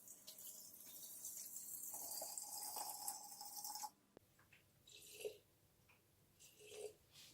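About 900 grams of water poured into a pot in a kitchen, a steady stream for a few seconds that stops abruptly, followed by a few faint splashes and clinks.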